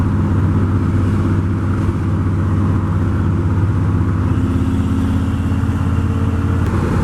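A stock Ford F-100 pickup with a five-speed manual swap pulls hard in second gear, its engine droning loud and steady from inside the cab, with road and wind noise underneath and no talk.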